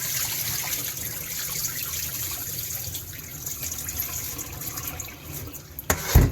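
Beans being scrubbed by hand in water to remove their skins while making akara, a continuous wet sloshing and swishing close by, ending in a louder splash.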